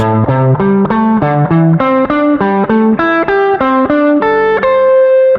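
Distorted electric guitar plays a quick pentatonic scale run of single notes climbing and then descending in an even rhythm, loud and clear with no talking.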